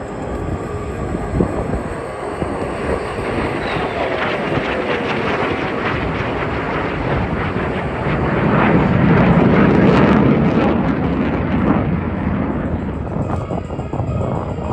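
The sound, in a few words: F-35 fighter jets flying past at an airshow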